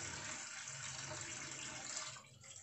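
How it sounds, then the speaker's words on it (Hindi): About 4.5 kg of fish being washed under a running kitchen tap, a steady hiss of flowing water splashing continuously, fairly soft, with a slight change in the splash near the end. "इसको मैं सारे को अच्छे तरीके से वॉश कर लूँ"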